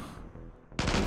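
Burst of RimWorld video game gunfire that bursts in loudly and broadband about two-thirds of the way through, following a quieter stretch of low rumble.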